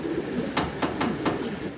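A pair of red, double extra-large male Lahori pigeons coo in a run of about five short, evenly spaced pulses, close and moderately loud over a low background murmur.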